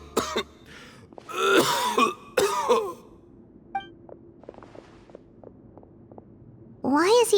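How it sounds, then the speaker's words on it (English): A Genshin Impact character coughs and clears his throat in harsh, breathy bursts, several close fits separated by pauses, with brief voiced fragments and footsteps in between. "Why is he coughing so much?"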